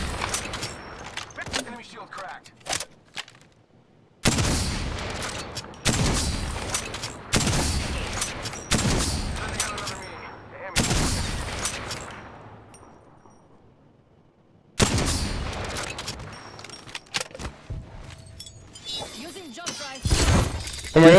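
Apex Legends gunfire comes in loud, sharp bursts of rapid shots separated by short lulls, with people talking excitedly between and over the shooting.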